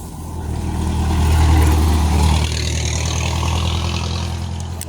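A car approaching and passing on a rural road, its engine rumble swelling to a loud peak and then fading slightly as it goes by, heard up close with no talking.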